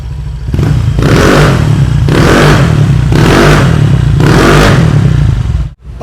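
A Honda Click scooter with an upgraded CVT revs its exhaust close up: four rising throttle blips with a rough, raspy drone between them, ending in a quick cut-off.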